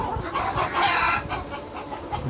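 Chickens cluck close by in a short, busy burst of overlapping fowl calls, with no talking.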